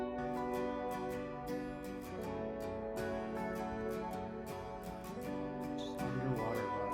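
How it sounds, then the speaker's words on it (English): Layered electric guitars blend with an acoustic guitar in a dense, sustained pop arrangement, chords ringing over a soft steady pulse with light percussive ticks on top, and no voices. "So all the electric guitars sound like this together. With the acoustic."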